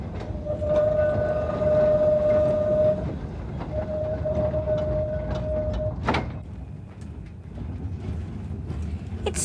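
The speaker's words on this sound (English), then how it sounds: "But Mossop, this tram could be going anywhere." A tram rolls along its rails toward the pleasure beach, with a steady low rumble, a sustained tonal whine that breaks off and returns, and a sharp clank near the middle. No one speaks.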